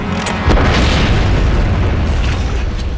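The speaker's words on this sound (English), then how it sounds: "trying to blow up an obsolete dam with the scale equivalent of a 10-ton bomb" A loud, deep blast goes off at a scale model of an obsolete dam, charged as the equivalent of a 10-ton bomb, booming once and then rumbling on for a few seconds.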